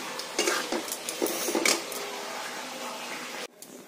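A metal lid clinks and clatters onto a pot of cooking dal in a kitchen, with several close, light rattling knocks, then quiet.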